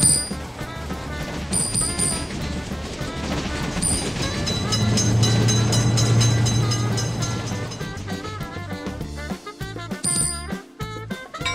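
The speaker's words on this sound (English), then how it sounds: "Train is in sight." A train passes a level crossing in an Indian train simulator game, a loud sustained rumble and clatter of wagons that swells and then fades, with a ringing crossing bell and no talk.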